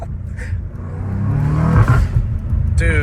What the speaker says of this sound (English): Dude, these turbos are so nice.